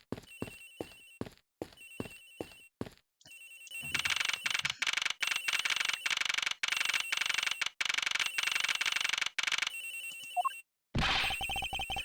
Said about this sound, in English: Now, this phone is ringing, so I believe we need to go and check it out.